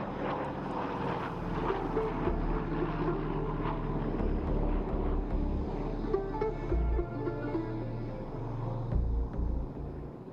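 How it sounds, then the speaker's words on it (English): A Douglas DC-3 or its C-47 military variant, powered by two Pratt & Whitney piston engines, flies a display at Aero India 2021, giving a loud steady propeller drone with a deep rumbling low end that swells and dips throughout. "The Douglas DC-3 and its military variant C-47 selected by the Indian Air Force is powered by two Pratt & Whitney piston engines"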